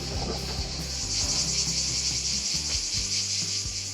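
Cicadas drone in hot summer weather near a beach bar, a steady high-pitched buzzing that holds evenly throughout with faint low rumbling underneath.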